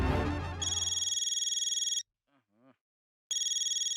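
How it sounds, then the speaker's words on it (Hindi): A telephone rings with a shrill electronic trill in two bursts separated by a silent gap, loud and close, with a brief faint sound between the rings. "सबसे पहले तो चंकी को फोन करो, पूछो क्या है क्या ये।"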